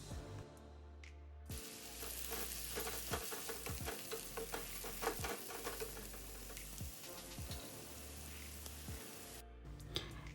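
Chopped big onions frying in hot oil with fennel seeds for a Tamil prawn masala, a steady close sizzle broken by repeated stirring strokes and occasional spoon knocks against the pan, with no talking.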